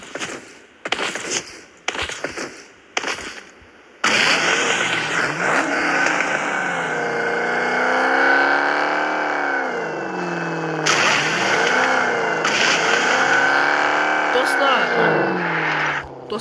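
Bugatti sports car in the PUBG Mobile game revving loudly, its engine note rising and falling in long sweeping pitch changes after a few short bursts of talk at the start.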